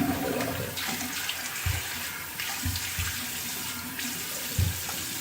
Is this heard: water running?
yes